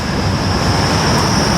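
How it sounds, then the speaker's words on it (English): A Grand Central train rumbles across a rail bridge over the River Wear near Sunderland's Stadium of Light. Its noise is a loud, steady roar with a thin high whine running throughout, and no voices. "There's the bridge that goes over with the trains. Here's one coming across now."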